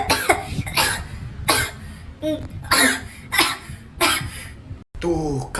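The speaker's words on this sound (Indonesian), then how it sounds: "Tuh, kan bener batuk." A child coughing repeatedly at home, several separate bursts in an irregular rhythm, close and fairly loud, with a brief throat-clearing sound.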